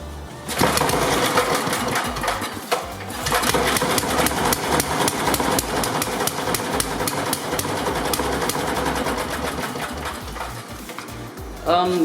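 An 8hp Briggs and Stratton Sno-Guard snowblower engine from 1988, fitted with a new carburetor, cranks and starts, then runs loud and close with a rough, fast chugging rhythm and a brief dip partway before cutting out near the end.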